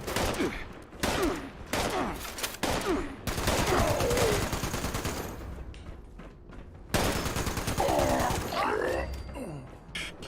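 Dense, rapid bursts of gunfire in Fallout 76, loud and sustained over most of the stretch with short pauses between volleys, some mechanical clanks mixed in.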